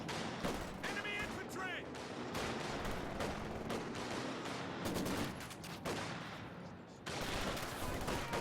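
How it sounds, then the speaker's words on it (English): MG34 machine gun fire in the strategy game Company of Heroes 2, suppressing Soviet conscripts: dense, continuous rattling bursts mixed with other battle noise and blasts, fairly loud throughout with brief dips. "Conscripts getting suppressed by MG34."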